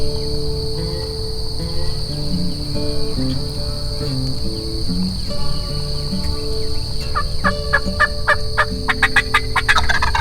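A mouth turkey call imitates wild turkey yelps and clucks in a steady series of calls over a constant high insect-like drone, with a quicker burst of sharp notes near the end.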